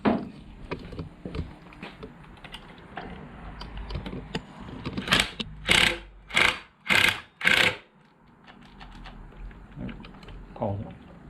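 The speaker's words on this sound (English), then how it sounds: "We got a long extension on the ratchet to these 2 bolts that holds this stay on." A ratchet on a long extension loosens the fairing bolts on a Honda Rebel motorcycle, producing a run of about five sharp, evenly spaced bursts of rapid clicking up close, with quieter handling noise and some talk around them.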